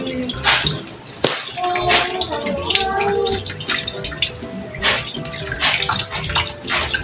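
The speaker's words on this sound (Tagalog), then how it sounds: "Hugasan po muna natin." Boneless milkfish (bangus) rinsed under a running tap for sinigang, with steady splashing and gushing water throughout and a few brief clinks and handling noises mixed in.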